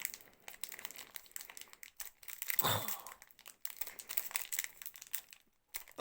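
A Pokémon booster pack's foil wrapper crinkles and tears in short bursts, one louder rip in the middle, quiet and close with small pauses between.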